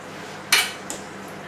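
A utensil strikes a hot baked beef giuvech in its pan, giving one sharp metallic clank followed by a fainter second knock, close and otherwise quiet.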